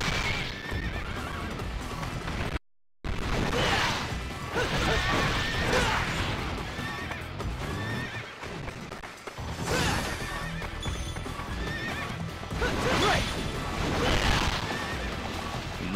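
Horses in the Sengoku Basara: Samurai Heroes video game neigh and whinny loudly amid galloping hoofbeats and crashing battle effects, a continuous busy mix with one brief silent gap.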